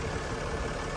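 A 3.0-litre diesel engine in a 2017 Mercedes Sprinter 3500 dually ambulance with a five-speed automatic idles steadily close by, a continuous low, even rumble with no voices.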